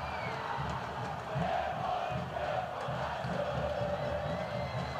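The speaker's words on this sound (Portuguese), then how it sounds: "Canta, canta alto, canta forte a torcida do Democrata." Democrata GV supporters chant loudly and steadily in a football stadium during a Campeonato Mineiro match against Ipatinga, a dense continuous crowd roar with rhythmic sung chanting.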